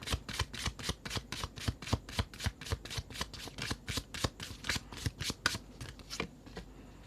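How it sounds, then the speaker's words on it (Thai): Tarot cards are shuffled rapidly by hand up close, a long run of crisp, evenly spaced riffling flicks that stops near the end. No one speaks. "เดี๋ยวเรามาขอเปิดไพ่ใบสุดท้ายให้ค่ะ"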